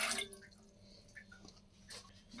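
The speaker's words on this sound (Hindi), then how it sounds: "1 कप यहाँ पर लिया है मैंने सिंपल पानी, ये इसमें जाएगा।" A cup of plain water poured into a small pan for making sugar syrup, a brief splash at the start followed by soft, sparse drips and trickles, quiet and close.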